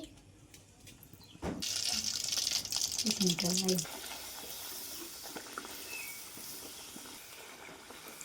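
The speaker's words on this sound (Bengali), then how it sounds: "গরম তেলে একটা লুচি দিয়ে দিচ্ছি" A round of spinach puri (luchi) hits hot oil with a sudden burst of hissing, then settles into a steady sizzle that slowly fades, while someone talks over it.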